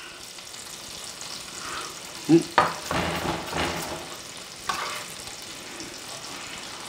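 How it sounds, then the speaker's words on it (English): Diced onion sizzles and fries in butter in a pan for Newfoundland-style fish and chips, a steady crackling hiss with a few louder stirring scrapes and clatters partway through; someone gives a brief murmur. "our butter is all sizzling up nice, so I'll go ahead and throw my diced up onion into my butter"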